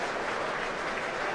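Rugby crowd at a Gloucester versus Leicester match applauding loudly, a steady dense wash of clapping and cheering from the stands with no break.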